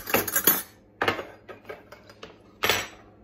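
Metal tablespoons and teaspoons clink and rattle against each other while being handled in a kitchen, a few short separate bursts of close jangling with quiet gaps between.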